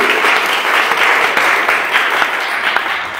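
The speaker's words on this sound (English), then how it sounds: "I would like a round of applause for Jazz Smith, his first time emceeing." A Sunday service audience gives a warm round of applause, a continuous, full burst of many hands clapping close and fairly loud, with a few sharper individual claps standing out, and no speech over it.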